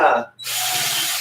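A brief burst of voice, a short pause, then a cordless drill whirs steadily at close range for the rest of the clip.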